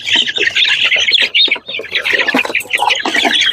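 Native chickens at a poultry market squawk and cluck loudly and close, in overlapping bursts that fill the whole moment.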